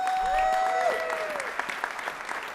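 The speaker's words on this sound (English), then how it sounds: "Can we give her another round of applause?" Applause from an audience at a New York City bill-signing celebration for Sammy's Law, honoring Governor Hochul, steady and moderately loud, with a brief whistle-like tone near the start.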